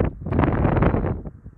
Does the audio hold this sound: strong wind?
yes